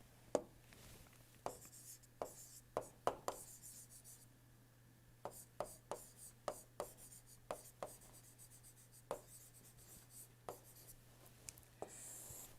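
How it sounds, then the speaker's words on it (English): Chalk or marker strokes tapping and scratching on a board during an engineering lecture on boilers, in irregular clustered bursts over a steady low hum, with no talking. "So, if we try to write boiler attachment"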